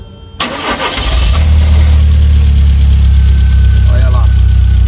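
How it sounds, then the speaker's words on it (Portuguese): A Volkswagen Kombi Flex engine cranks, catches and settles into a loud, steady rumbling idle close by, with a voice speaking briefly over it. "para vocês ouvirem o barulho do motor de uma Kombi Flex"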